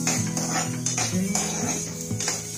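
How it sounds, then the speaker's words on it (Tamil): Tamarind being lightly sautéed in a pan for a Tirunelveli-style sodhi kuzhambu, heard as close, continuous clinks and scrapes of a utensil against the pan with a faint stir, no talking. "புளியும் போட்டு லேசாக வதக்கிட்டு தேங்காயும் போட்டுருவோம்."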